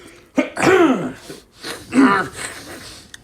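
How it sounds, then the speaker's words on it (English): Two rough throat-clearing rasps, close and loud, separated by a short pause. "clear your throat"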